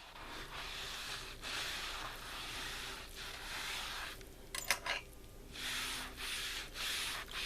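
Faint, close wiping and rubbing strokes come in repeated passes as a layer of moisture is worked onto leather.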